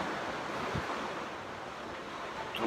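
Sea waves wash in a soft, continuous roar heard from a boat on a honeymoon trip, faint and airy with some wind buffeting the microphone.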